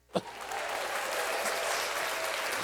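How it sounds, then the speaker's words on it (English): Podcast studio audience breaks into applause after a short sharp onset, the clapping holding steady and dense to the end with no talk over it. "Don't applaud that."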